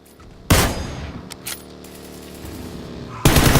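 Gunfire in the PUBG video game comes as two loud bursts, one near the start and one at the end, with a lingering ringing tail and some faint clicks between them.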